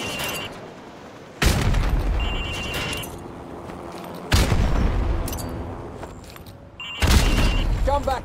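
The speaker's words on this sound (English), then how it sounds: "Now throw a grenade into windows 2, 3, and 4." Frag grenade explosions during Call of Duty Modern Warfare training, three heavy booming blasts a few seconds apart, each trailing off into rumble, with faint chirps and voices in between.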